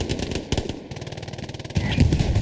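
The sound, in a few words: tank cannon firing HE shells, Hell Let Loose video game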